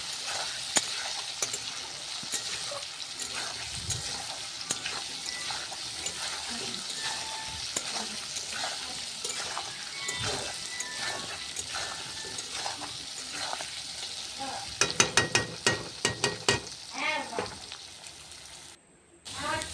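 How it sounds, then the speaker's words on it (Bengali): Food fries in a pan at home, a steady close sizzle with occasional stirring scrapes and clinks. "তখন আমি ভেজে নিচ্ছি।"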